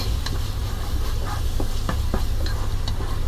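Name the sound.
potatoes and onions frying in oil with ginger and garlic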